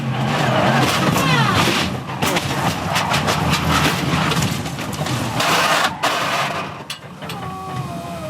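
A race car at speed during the Bathurst 12 Hour endurance race: a loud, continuous engine roar with wind rush from onboard, shifting pitch through gear changes over about eight seconds.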